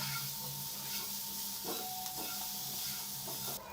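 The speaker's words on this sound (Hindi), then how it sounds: "अब सब चीज़ें मिक्स कर लेंगे" Noodle and vegetable filling sizzles steadily in a hot pan as it is stirred and mixed, a continuous frying hiss with soft scraping strokes and no talking.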